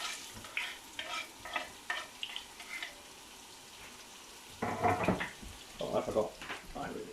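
Onions hit a hot pan and sizzle, quiet and close, with bursts of frying hiss as they are stirred.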